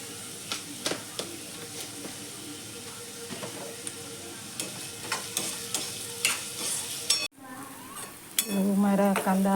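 Onions fry in a hot pan with salt, sizzling steadily while a spoon scrapes and stirs them in repeated clattering strokes, close up; the sound cuts out briefly and then returns with the frying still going.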